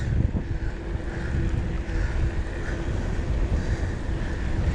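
Wind buffeting the microphone during an outdoor run in hot weather, a loud continuous rumbling roar throughout with no talking.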